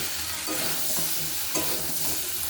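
Potatoes and fried matar dal (split pea) fritters being stirred through spice masala in a pot, a steady close sizzle of frying with scraping stir strokes, no talking.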